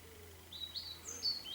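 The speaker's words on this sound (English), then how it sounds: "Just the pigeons and the robins in the background." Faint, scattered calls of pigeons and robins in a calm, windless outdoor setting, a few high notes rising over a quiet background hum.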